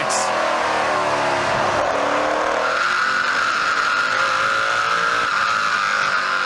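NASCAR Pinty's Series stock cars roar around Autodrome Chaudière, their engines revving in a loud, continuous drone as the pack passes and shifts pitch, with crowd and track noise beneath.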